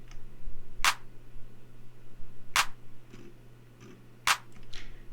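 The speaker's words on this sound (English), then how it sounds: "It's just a thicker sounding clap basically." Layered clap samples in a type beat, three sharp, thick claps spaced evenly about two seconds apart over a low steady hum, loud and dry against a quiet background.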